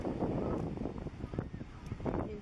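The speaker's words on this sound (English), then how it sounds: "nice and breezy out here." Breezy wind gusting across an open beach, a steady rumbling wash with rising and falling gusts close to the microphone throughout.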